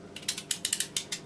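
Quick, crisp scraping strokes repeat in an uneven rhythm as a peeler shaves skin from a squash for a squash dessert, close and fairly soft.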